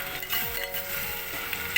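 Masala spices tipped into reddened fried onions in a pan while cooking lobia masala curry: a steady soft sizzle with light stirring scrapes and a small clink of utensil against the pan.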